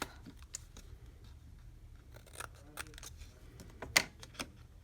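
Scissors snip away excess paper for a retro-themed 3D paper box project. Sparse, close, crisp clicks and snips come in irregular bursts, with one sharper cut near the end, over a quiet background and no speech.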